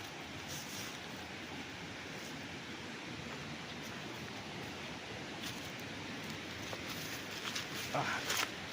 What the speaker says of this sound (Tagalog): Yan, ito na yung ilog mga kaprops.